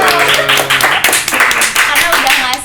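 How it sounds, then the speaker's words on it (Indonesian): A group of people clapping together after an Indonesian love-themed podcast thanks its guests, steady dense claps throughout with voices talking and cheering over them. "Tepuk tangan dulu dong"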